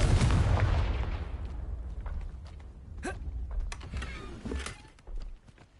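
A Confringo fire spell explodes in Hogwarts Legacy, a heavy blast at the start that fades into a rumbling decay, followed by scattered creaks, clicks and small bursts.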